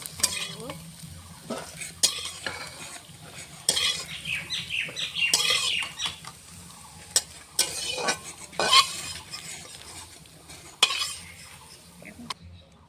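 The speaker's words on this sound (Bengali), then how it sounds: "আলুটা ভাজা হয়ে গেছে তারপর শুকনো লঙ্কাটা ভাজা হয়ে গেছে" Potatoes and dried red chillies fry in a pan while being stirred, giving a steady sizzle with repeated scraping and clinking of a utensil against the pan at close range, with no talking.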